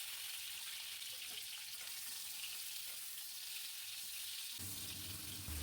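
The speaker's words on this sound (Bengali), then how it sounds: "তেল গরম করে প্রথমে আমি কেটে রাখা নুন হলুদ মাখানো পটলগুলোকে ভাজবো।" Potol (pointed gourd), cut, rubbed with salt and turmeric, frying in hot mustard oil in a pan, giving a steady loud sizzle that stays even throughout and grows louder with a low rumble near the end.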